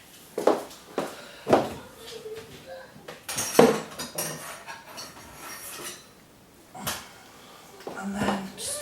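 A knife trims the ends off washed leeks on a board, giving a few sharp separate chops and clinks spaced a second or so apart at moderate level, with brief talk between them.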